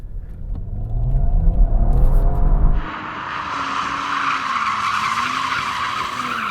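A BMW M3 Competition or Audi RS4 Avant launches hard with wheelspin that smokes the inside front tyre. A heavy engine roar gives way to sustained, loud tyre squeal and skidding as the car pulls away.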